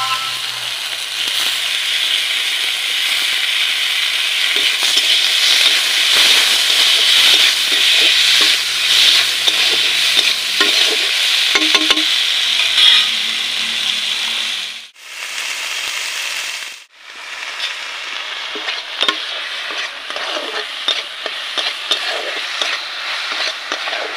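Chopped tomatoes hit a pan of frying onions and curry leaves for a village-style tomato curry, producing a loud, continuous close sizzle with scraping stirs and two brief dips in the frying noise.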